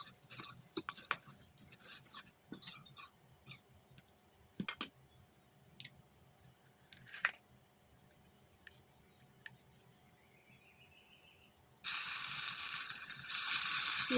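Whole garam masala, two each of cinnamon, cloves and cardamom, hits hot oil and erupts into a loud, sudden sizzle near the end, after a stretch of quiet clinks and faint kitchen noises.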